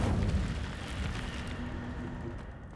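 Incendio fire spell cast in Hogwarts Legacy on PS5, a low, rumbling burst of flame that fades into a steady, fairly quiet crackling roar.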